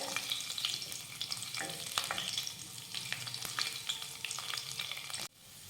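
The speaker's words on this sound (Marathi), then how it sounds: "आता हा लसूण तांबूस रंगावर छान परतून घेऊयात" Six or seven finely chopped garlic cloves sauté in a pan for spiced cabbage, a steady close sizzle with occasional stirring scrapes, cutting off abruptly near the end.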